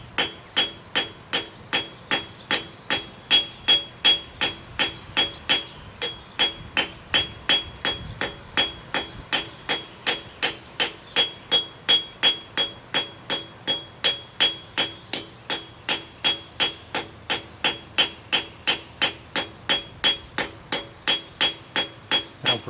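Steady, evenly spaced hammer blows ring out on a rivet of a hand-forged compass, around two strikes per second, sharp and metallic, close and alone.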